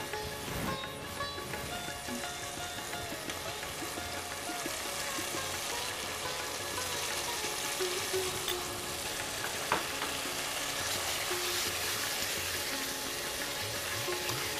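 Brains sautéing in oil for a white mutton korma, a continuous quiet sizzle and bubbling with occasional faint stirring clicks, steady and unaccompanied by talk.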